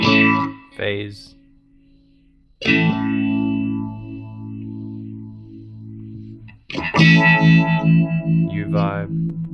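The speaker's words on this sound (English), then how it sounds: "Phase." A guitar played through the phaser modulation setting of a Nux Mighty60mk2 amplifier rings out in sustained chords with a sweeping, swirling tone, separated by brief gaps between strums.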